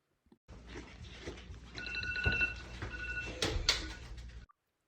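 A phone ringtone plays as a steady electronic tone pattern for a few seconds at moderate volume, with faint room noise behind it.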